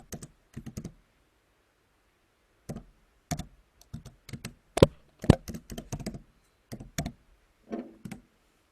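Someone types a quote on a computer keyboard, the keys clicking close and clear in short bursts of several strokes separated by pauses, with a few louder taps standing out and no talking.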